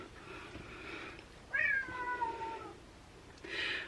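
A cat meows in a basement, a few drawn-out calls at moderate distance over a steady low hum, with a short pause before a final meow.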